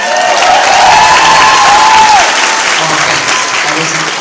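An audience applauds loudly and continuously in a hall, a dense wash of clapping with a few cheers and a brief whistle-like tone, fading slightly toward the end.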